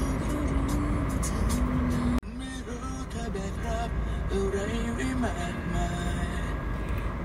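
Busy Saturday street traffic in South Pattaya, with a steady wash of passing cars and engines close by. A voice talks over it, and there is a brief thump partway through.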